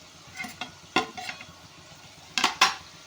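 Onion and capsicum sautéing in a pan for a Gujarati dish: a few sharp spoon scrapes and clinks against the metal, separated by quieter moments with a faint sizzle.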